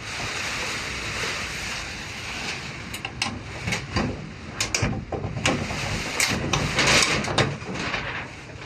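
Typhoon wind roaring outside a house during heavy rain, a steady broadband rush with repeated sharp rattles and bangs, as of a window or door shaking, growing stronger toward the end.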